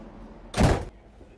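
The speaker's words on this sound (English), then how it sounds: "rejoin the train and closing the door behind me" A single short, heavy thud of a train door sliding shut nearby, with quiet background before and after.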